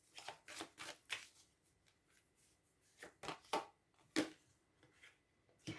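Tarot cards being shuffled in soft, repeated riffling bursts, close and quiet, with no talking.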